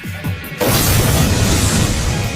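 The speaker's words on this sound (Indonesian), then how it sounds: "sepatu itu meledak seperti bom" A sudden loud boom bursts in after a quiet moment as a shoe explodes like a bomb, followed by a dense rumbling, crackling roar that stays loud to the end.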